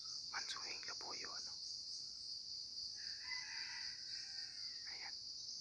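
A jungle fowl rooster answers with a crow in an outdoor setting with constant high insect buzzing; one crow comes near the start and a longer, fainter crow follows a couple of seconds later.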